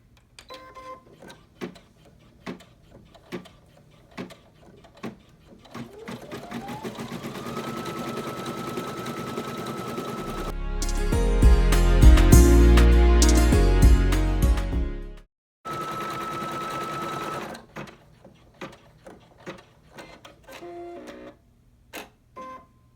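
An embroidery machine stitches a decorative outline on an in-the-hoop bag, a steady mechanical whir with rapid clatter that builds to a loud, dense burst midway, framed by sparse clicks and taps before and after.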